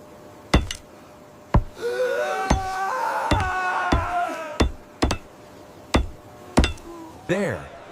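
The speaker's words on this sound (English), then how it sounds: "There, they nailed Jesus' hands and feet to the cross and raised it high." Hammer blows nailing into a wooden cross ring out as sharp, evenly spaced strikes, about ten across the stretch, with a sustained tonal swell and a brief vocal cry rising between them.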